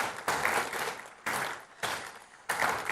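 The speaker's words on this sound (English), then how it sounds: "Let's begin with a huge round of applause and get the energy going." An audience applauding at a summit, a dense wash of clapping coming in short bursts that swell and cut off, fairly close and with no voices over it.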